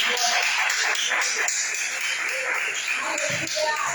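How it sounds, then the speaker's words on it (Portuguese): Applause from a church congregation after a prayer, a dense, steady wash of many hands clapping that fills the room, with voices faintly mixed in. "Vamos receber a palmas para agradecer a nosso Deus"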